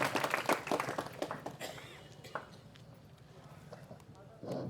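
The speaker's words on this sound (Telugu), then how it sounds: "అందరూ చప్పట్లు కొట్టండి." Students clapping at a school chess board distribution event, a burst of applause that fades after a couple of seconds, then a short renewed patter near the end.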